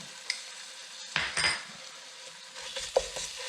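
Minced garlic goes into onions frying in a hot pan for German goulash, giving a steady sizzle broken by louder scraping, stirring bursts in the middle and again near the end.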